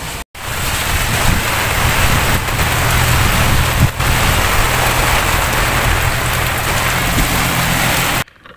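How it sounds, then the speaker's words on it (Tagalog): Heavy rain and strong wind batter a campsite during car camping, a dense, loud, steady roar of rain with gusting wind buffeting the microphone, continuous for several seconds with brief dropouts at the start and end. "Ito biglang lumakas na yung hangin at ulan, kaya pati yung trapal natin ay lumihis na."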